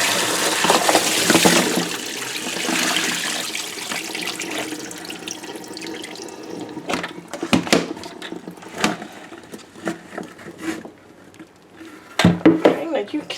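Pickles and lime solution water pour from a bucket into a kitchen sink, a loud gushing splash at first that breaks into scattered sloshes, clunks and drips, with someone talking over it.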